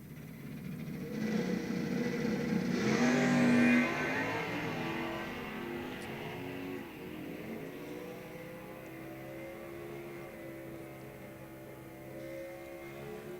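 A Pontiac Firebird and a Plymouth Duster, both D-stock automatics, race side by side at an NHRA drag strip. Their engines build to a loud, roaring launch, then the drone thins out and fades into the distance.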